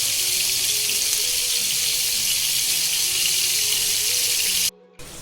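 Seekh kebabs frying in cooking oil make a steady, loud hiss and sizzle that keeps on without a break, then cuts out abruptly near the end.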